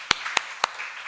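Three distinct claps ring out one at a time in a church service hall, evenly spaced and moderately loud, with a hushed room between them.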